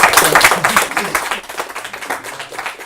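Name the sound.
applause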